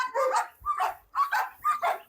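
Dogs at a large dog farm bark in a quick run of about five loud, close woofs with brief pauses between them.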